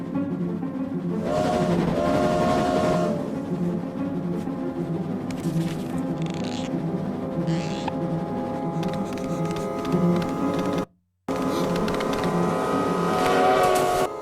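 Bassoon played as a sustained rumbling, chugging effect that mimics an approaching train, a dense continuous low texture with rising intensity, broken by a brief silence near the end before resuming.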